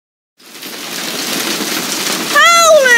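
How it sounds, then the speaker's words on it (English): Steady rain and hail patter on a surface, starting abruptly and holding constant, with a rising whistling or voice-like tone joining near the end. "I'll show some better pics of it raining and hailing."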